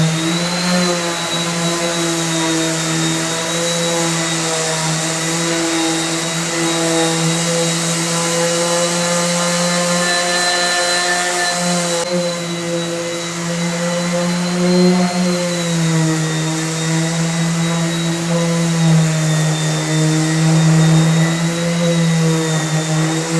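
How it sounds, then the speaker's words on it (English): Coarse 80 grit sandpaper on a power sander works across an Early American pine kitchen table, giving a steady, loud, continuous whine and hum that runs without a break. "We're gonna continue to wrap up phase one of sanding with 80 grit coarse grain"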